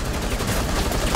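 Shotgun fire in Rainbow Six Siege, Operation Velvet Shell, heard as a dense, continuous wash of gunfire and noise with a sharper blast near the end, loud and close, with no talk.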